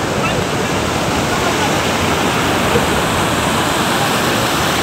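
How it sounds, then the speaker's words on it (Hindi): Windom Fall waterfall at Mirzapur heard up close, a loud, steady, unbroken roar of water falling and flowing, filling the scene with constant broadband rush. "ये आपको पास से दिखाते हैं पानी कैसे आ रहा है किधर से"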